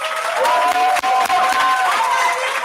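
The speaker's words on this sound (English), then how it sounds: "Give a round of applause to all of the parents." Audience applause and cheering for parents at an Islamic children's voice competition, a steady dense crowd wash across the clip with a few brief dips and a tonal voice line running through it.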